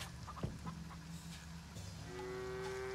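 Jersey cows in the farming game Farm Together 2, faint mooing among soft background farm ambience, with a sustained lowing tone near the end.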